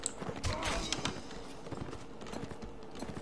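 A horse gallops in the video game Mount & Blade Warband, its hooves beating a quick, fairly faint clip-clop rhythm that runs steadily throughout, with no talking.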